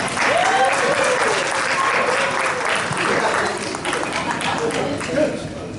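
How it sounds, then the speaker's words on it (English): A gathered group applauds a person named Ziggy, a sustained, even burst of many hands clapping, fairly loud, with voices and brief calls audible underneath. "We all give a round of applause to Ziggy for not falling asleep today."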